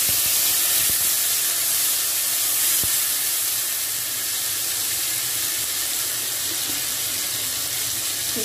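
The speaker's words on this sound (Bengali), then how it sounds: "এই মশলাগুলো একটু হালকা করে ভেজে নেব, যেই গন্ধ বেরিয়ে যাবে।" Spices fry with ginger and green chilli paste added to the pan, a steady close hiss of oil and steam running without pause, no voices.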